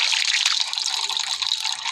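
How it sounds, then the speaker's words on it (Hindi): Water gushing out steadily in an animated show, a loud continuous hissing rush with no pauses and no speech over it. "पानी निकल बबल, जरा इसे बंद करो।"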